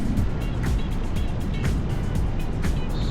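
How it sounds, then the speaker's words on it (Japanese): A returning rider's motorcycle engine drones steadily and close, with brief revving blips as the throttle is blipped during an upshift, under constant road and wind noise. "速度を上げてギアチェンジするときに一回私ちょっとねふかすんですよ、ビュンって。"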